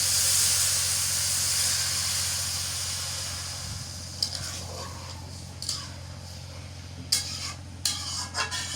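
Water poured onto frying rice in a pan bursts into a loud, broad steamy hiss that slowly fades, then gives way to scattered stirring scrapes and light knocks near the end.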